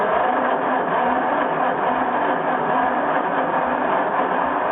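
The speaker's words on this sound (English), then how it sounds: "here's our grand first attempt at cranking it." John Deere crawler engine being cranked over, a loud continuous churning rumble with a fast rhythmic pulse from the starter turning it, held steady and close throughout.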